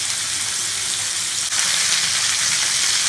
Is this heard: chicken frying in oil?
yes